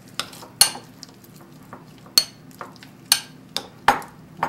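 A utensil scraping and knocking against a bowl while mixing room-temperature cheese and cilantro popper filling, a run of sharp, irregular clinks and thuds, close and clear with no talking.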